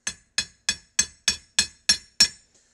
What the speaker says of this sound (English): so I'm just dropping the hammer on it.